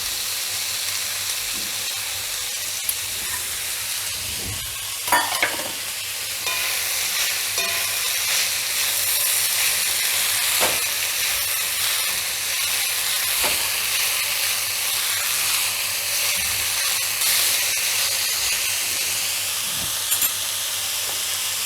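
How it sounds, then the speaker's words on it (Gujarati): Shredded cabbage sizzles and hisses in a pan over a full gas flame while being stirred for paneer vegetable Maggi, with a steady close frying hiss and occasional scraping stirs. "ગેસની ફ્લેમ આપણે ફૂલ જ રાખેલી છે હવે આપણે આમાં કોબી એડ કરી દઈશું"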